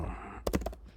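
A name being typed on a computer keyboard, heard as a short burst of a few close, quick key clicks over a faint background hum.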